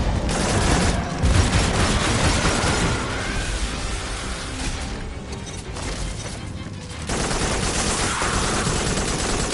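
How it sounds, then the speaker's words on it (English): Dense, loud enemy gunfire in the sci-fi shooter game Farpoint: rapid automatic bursts and heavy impacts run almost continuously, with a brief dip midway before the barrage resumes. "He's gonna shoot at you too."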